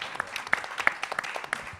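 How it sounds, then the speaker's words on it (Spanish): Brief applause at a university tribute event, a short burst of scattered clapping heard at a moderate distance, with individual claps standing out. "fuerte el aplauso"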